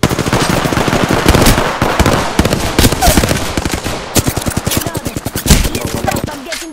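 Rapid automatic gunfire in Apex Legends rattles loudly in fast bursts of sharp shots, with short pauses between volleys.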